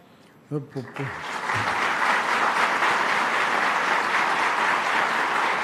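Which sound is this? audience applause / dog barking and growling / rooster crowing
audience applause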